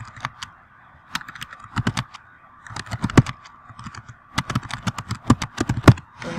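Someone types an essay on a computer keyboard, with steady clicking keystrokes in uneven bursts and short pauses, close and clear, with no talking.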